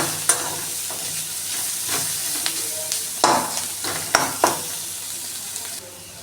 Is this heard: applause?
no